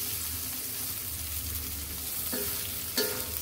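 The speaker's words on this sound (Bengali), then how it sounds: "ভাজা জিরার গুঁড়া দিয়ে আমি নেড়ে এরকম তেল উঠে আসলে আমি চুলা থেকে নামিয়ে নিব" Eggplant and shrimp curry being stirred in hot oil with roasted cumin powder, a steady close sizzle with soft scraping of the spoon and a couple of light knocks near the end.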